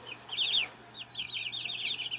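Rhode Island Red chickens in a screened brooder give repeated high, chirpy clucking calls in short bursts, close and fairly clear, with no talking.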